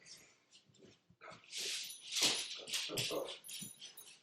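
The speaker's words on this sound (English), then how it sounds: "I gotta kick my dog out the room." A dog in a quiet room whimpers and snuffles in short, uneven bursts of soft, high whines, fairly close and intermittent.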